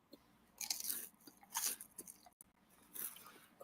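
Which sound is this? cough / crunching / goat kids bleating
crunching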